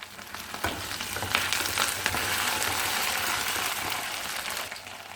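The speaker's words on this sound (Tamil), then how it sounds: "பூண்டு இப்போ தான் நல்லா பொரியும்." Garlic, urad dal, mustard seeds and asafoetida frying in hot oil for a pirandai chutney, a steady close sizzle with crackling pops and stirring scrapes throughout.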